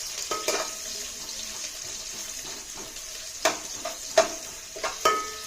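Green chillies, carrot and onion frying in a pan for egg fried rice, a soft steady sizzle with intermittent sharp scrapes and stirring clinks of a utensil against the pan.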